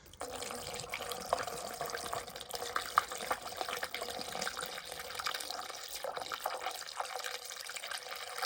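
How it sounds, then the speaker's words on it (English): Antifreeze is poured through a funnel into a boat engine block, giving a steady trickling, splashing flow with small drips that carries on for several seconds, close and fairly quiet. "I'm just going to fill this block up with antifreeze."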